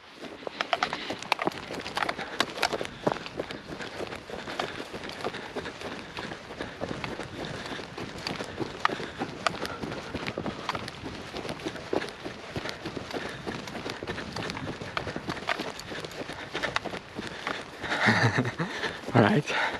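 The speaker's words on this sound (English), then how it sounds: "I'm gonna run again a little bit, I'm not gonna talk, and then we will see how much noise it's gonna pick up." Running footsteps and wind buffeting on a GoPro Hero 8 with the Media Mod microphone outdoors, a steady rhythmic patter of strides under continuous rough wind noise, with a heavier gust near the end.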